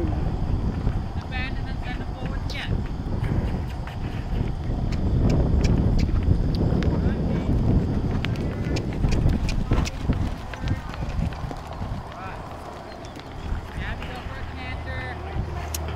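Hooves thudding on the ground as a horse moves, mixed with wind buffeting the microphone and occasional voices nearby.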